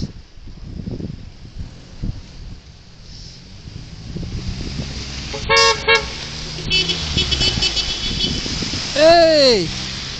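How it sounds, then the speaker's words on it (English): Car horns toot on a city street at an outdoor vigil in Montréal, with short honks near the middle and a louder blast near the end. Passing traffic and wind noise run throughout, and voices can be heard. "Two at the same time, honking their horns."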